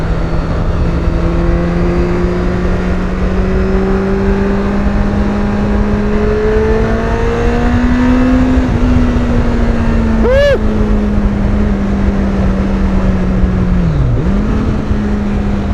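A Kawasaki Concours 14 motorcycle fitted with a Delkevic aftermarket exhaust drones steadily at cruising speed on a country road, close and loud, with a slight rise in pitch midway and a quick throttle dip near the end.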